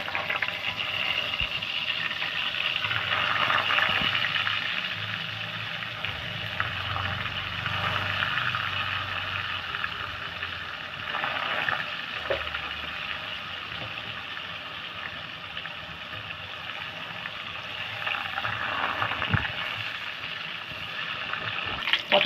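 Whole pointed gourd (potol) shallow-frying in oil in a pan, a steady soft sizzle and bubbling hiss that continues evenly for a long stretch with occasional small pops.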